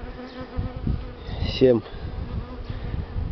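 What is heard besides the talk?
Buckfast honey bees buzzing around an open hive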